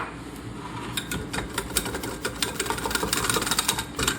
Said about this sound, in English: Whisk it around.